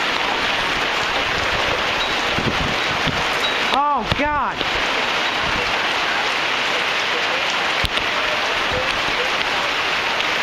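Steady rain pours and water flows during a thunderstorm in Tacoma, Washington, a dense hiss of falling drops throughout, with a brief exclaimed voice partway through and a sharp click near the end.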